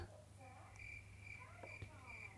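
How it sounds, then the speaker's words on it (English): Steady high-pitched cricket chirping, a continuous trilling drone at moderate distance with a faint low hum underneath. "Crickets."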